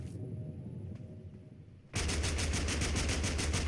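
Rapid automatic gunfire from a gun in the video game TABG starts partway through after a quieter stretch, then continues as a loud, steady stream of closely spaced shots.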